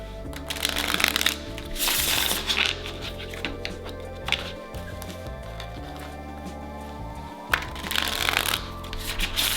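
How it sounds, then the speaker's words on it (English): A tarot card deck is shuffled by hand in several quick riffling bursts separated by pauses, close and crisp, with faint background tone. "One more shuffle for you, the other way."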